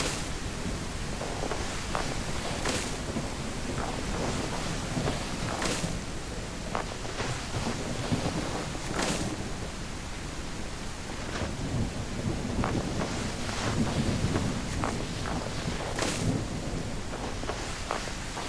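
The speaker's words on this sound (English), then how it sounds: "The thunder in the distance, the rainfall." Steady rain pours down in the Snow Plowing Simulator video game, with low rumbles of distant thunder rolling beneath it and periodic sharper crackles over the constant hiss, loud and continuous, with no voices.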